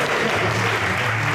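A church congregation at a seminary and ordination service applauds to acclaim the Lord, with steady, dense clapping from many hands that fills the room evenly throughout, heard alone.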